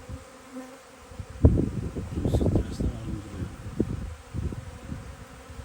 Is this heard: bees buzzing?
yes